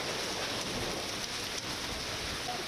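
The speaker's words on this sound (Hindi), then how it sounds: "सुबह की राजधानी लखनऊ में।" Heavy rain pours steadily during a morning storm in Lucknow, falling in front of the legislative assembly building, a dense, continuous hiss that fills the whole clip with no voices over it.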